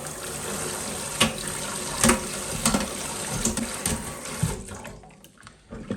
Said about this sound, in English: Give that a quick rinse. Under our Bunnings swivel tap adapter.